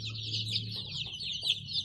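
Rapid high-pitched peeping and cheeping from eight- to nine-day-old chicken chicks, continuous and close, with a low steady hum underneath.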